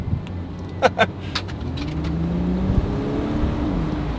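A BMW X5 climbs the Pike's Peak road at a steady low engine hum with tire and road noise, preceded by a few brief jangling clicks inside the cabin, heard from within the car.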